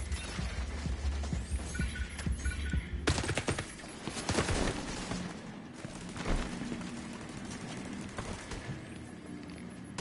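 Gunfire in The Division 2 rattles in sustained bursts over a low rumbling game backdrop, with sharp clustered shots around the middle and quieter stretches between, no speech.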